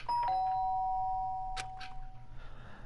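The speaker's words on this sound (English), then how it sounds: "The sharp sound of the doorbell pierced my sleepy haze and pulled me back to the real world." A doorbell in the Danganronpa video game rings with a clear two-tone electronic chime, loud and close at the start and fading out over a couple of seconds, followed by a soft rustle.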